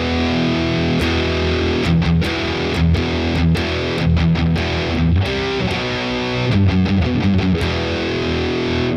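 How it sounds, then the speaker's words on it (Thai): A heavily distorted electric guitar plays a metal-style part, strumming one chord with down-strokes only in a steady, dense rhythm with short choppy breaks, loud and close. "เสียงแตกก็คือเสียงดิสทอร์ชัน"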